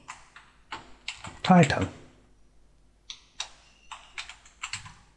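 Key clicks from typing on a computer keyboard, a loose run of light taps spread through the moment, with someone speaking briefly over them near the start.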